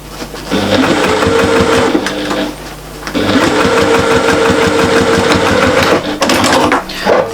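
Sewing machine stitching the gusset of a fabric pouch, two loud bursts of fast, even mechanical whirring separated by a short pause, with a final brief burst at the end.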